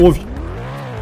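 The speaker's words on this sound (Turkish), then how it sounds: "bu arabanın sesi bu değil. Bu arabanın sesi biraz daha ince çıkıyor." A car engine in a Roblox game drones with a steady, rising tone just after a short loud burst at the start. A voice talks over it throughout.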